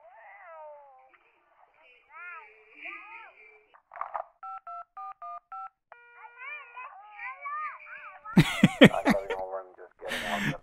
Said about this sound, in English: If you can't talk, please press any digit on your phone